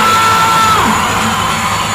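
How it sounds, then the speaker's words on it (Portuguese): Girls in a crowd at a live funk show scream loudly and continuously, a dense, sustained wall of high-pitched yelling filling the space. "Eu quero ouvir o grito das meninas"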